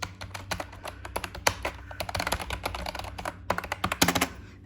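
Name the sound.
typing on HP K500F membrane gaming keyboard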